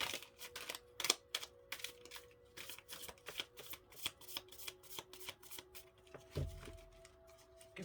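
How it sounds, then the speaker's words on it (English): A deck of cards is shuffled in rapid riffling bursts, a dense run of crisp flicks and slaps close to the microphone, with no talking. "Give it one more shuffle."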